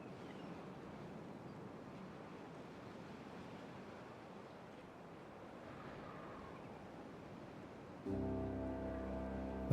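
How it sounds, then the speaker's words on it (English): Water released in the building game Timberborn rushes in a steady, broad, surf-like wash that holds for several seconds, then abruptly gives way to a louder tonal hum near the end. "I'm going to go ahead and release some water here"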